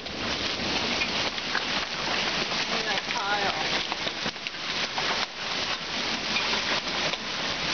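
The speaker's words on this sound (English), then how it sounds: "we're getting ping pong size hail, winds that are tearing all the new leaves of spring off" Ping-pong-size hail with strong wind on a spring day in a garden, a constant heavy rattle and roar of stones and gusts, with a person speaking briefly over the din.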